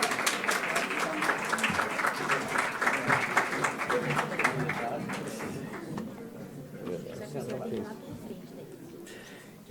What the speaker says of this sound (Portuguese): uma salva de palmas, por gentileza.